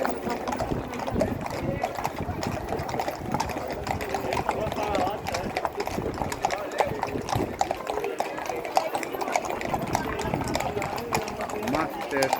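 Rhythmic horse hoofbeats clop steadily throughout at the Tres Tombs festival in Vilanova i la Geltrú, with people talking over them.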